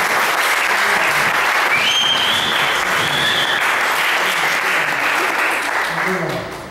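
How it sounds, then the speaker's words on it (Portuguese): Audience applause at a worship gathering: loud, dense, sustained clapping from a crowd for nearly seven seconds, with a few high whistle-like tones over it, tapering slightly at the end. "Salve de palmas."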